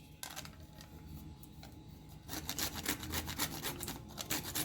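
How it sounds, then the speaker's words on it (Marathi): Nutmeg is grated by hand into a ladoo mixture, giving quiet, rhythmic scraping strokes that speed up into a rapid run of rasps partway through, close and alone. "अगदी थोडंसं आपल्याला यामध्ये किसून असं जायफळ घालायचं आहे."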